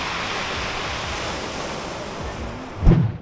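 Large sea waves wash steadily against the shore with a soft, continuous roar, and one closer wave thumps and splashes near the end, with some wind noise and no voices.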